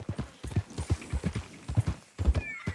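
A horse in the video game Red Dead Redemption II gallops with quick, rhythmic hoofbeats in rapid clusters, close and clear, and a brief whinny rises near the end.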